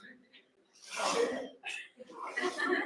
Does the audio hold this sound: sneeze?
yes